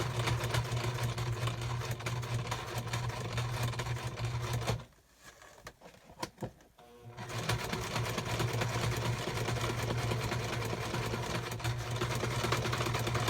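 A sewing machine runs steadily with a constant mechanical whir, pausing briefly partway through before starting up again.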